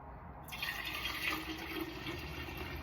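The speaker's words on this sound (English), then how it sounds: "you pour the tea that you brewed earlier with the 4 tea bags, and you just pour it on top" Brewed sweetened tea, made from four tea bags, pours steadily into a mason jar of kombucha in a home kitchen, a continuous watery splashing stream that starts abruptly and holds close and even throughout.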